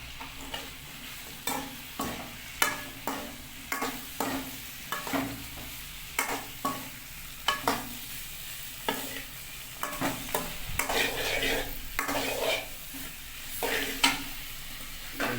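Soya chunks go into a pan of frying chopped tomato and are stirred, giving repeated sharp scrapes and knocks of a spoon over a low, steady sizzle, with no talking.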